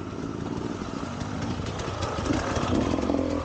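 A motorcycle engine runs steadily on a dirt trail near Ibaté, a droning mid-pitched chug with slight surges in revs, fairly close and continuous, without any speech over it.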